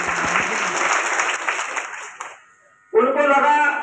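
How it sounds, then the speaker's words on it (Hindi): Crowd applause at a birthday celebration for Mayawati in Bhind, dense clapping mixed with voices for two seconds, a brief lull, then another loud burst of clapping. "आप एक बार जोरदार दोनों हाथ से ताली बजाकर उनका सम्मान करें"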